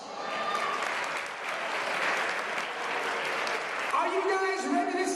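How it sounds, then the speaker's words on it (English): Wedding guests applauding in a hotel reception hall, a steady wash of clapping and cheers that continues for several seconds, with voices rising near the end. "So give these Steelworkers one more big round of applause."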